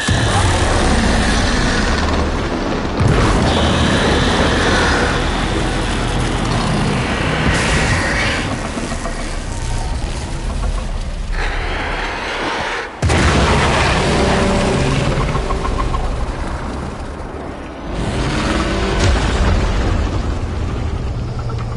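Loud, sustained blast and rumble in a video game scene, with repeated booming bursts and crashing debris filling the whole stretch, a sharp new impact partway through, no talk.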